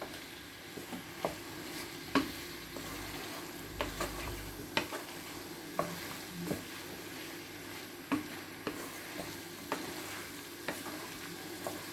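Parboiled potatoes are stirred into sizzling meat pie filling in a pan, with a steady frying hiss broken by repeated scraping and stirring knocks at an irregular rhythm.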